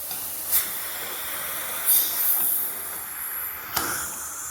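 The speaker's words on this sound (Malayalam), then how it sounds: "അടുപ്പത്ത് കുക്കറിൽ ആവി വന്നു" Steam hisses from a pressure cooker on a kitchen stove, with short sharp bursts of hiss cutting in over a steady airy rush, close and fairly loud with no talk.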